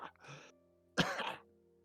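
A person clears their throat and coughs twice, short and close, mimicking a cough.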